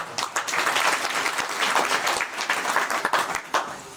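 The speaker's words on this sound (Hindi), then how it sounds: "मैं पुनः उनका एक बार जोरदार तालियों के साथ" Loud, sustained applause from a crowd at an outdoor tribal rally event, dense clapping filling the whole span with steady intensity and small swells, no talking over it.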